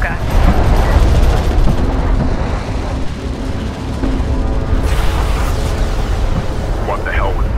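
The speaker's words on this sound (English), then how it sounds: "What the hell was that? An electromagnetic pulse." Electromagnetic pulse blast in the strategy game Homeworld: Deserts of Kharak, a loud broad rumbling roar that sustains throughout, amid game sound effects and radio voices.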